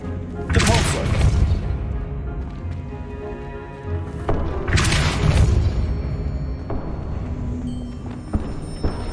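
A Depulso spell cast in Hogwarts Legacy lands as two heavy, booming blasts about four seconds apart, each with a loud crashing burst that rumbles and fades beneath ongoing game ambience.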